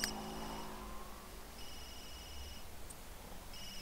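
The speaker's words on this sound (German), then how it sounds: "Penelope, dein Handy geht mir auf den Geist." A mobile phone rings in The Sims 3 game, sounding as repeated short electronic ringtone bursts at a moderate level with gaps between them, heard alone without talk.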